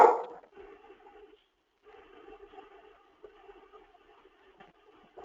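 A pet dog barks and whimpers indoors in short, moderately loud bursts with pauses between them, standing alone with no talking.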